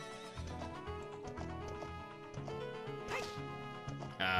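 Epona the horse in Zelda: Ocarina of Time lets out a rising whinny near the middle, over steady game music and a thudding rhythm that could be hoofbeats.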